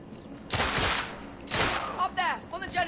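Gunfire in the video game The Order: 1886, two loud bursts of rapid shots about a second apart, followed by shouting voices.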